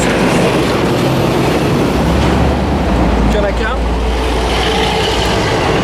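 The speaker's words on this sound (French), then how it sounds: "Ah, le camion est passé, très bien." A heavy truck rumbles loudly past nearby during a driving-test vehicle check, its low roar filling the clip, while someone speaks briefly in French over it.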